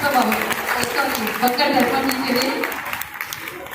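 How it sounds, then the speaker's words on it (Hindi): An audience applauds at a Lions club district meeting, a steady clatter of hands beneath someone speaking into a microphone. The clapping thins out toward the end. "तालियां जरूर बनाइए"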